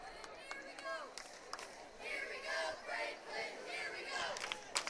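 A high school football crowd at a night game between the Tigers and the Panthers swells into a cheer. The cheering is fairly distant, and a commentator talks over it throughout.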